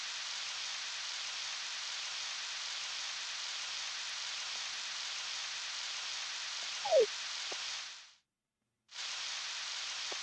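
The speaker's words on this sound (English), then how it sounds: "Hey, magic weather rock is wet. It must be raining." Steady rain falls in the video game Palworld, an even, unbroken hiss with a brief swishing blip partway through and a sudden short gap of silence before the rain resumes.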